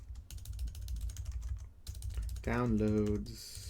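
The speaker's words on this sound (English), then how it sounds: "Oh my god, I can't type while people are watching." Rapid, uneven clicking of keys on a computer keyboard, close and fairly quiet, with a voice speaking briefly over the typing near the end.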